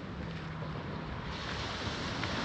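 Sea waves rolling onto a rocky beach at Dipaculao, Aurora, a steady broadband wash of surf with some wind noise, continuous and fairly close, no voices.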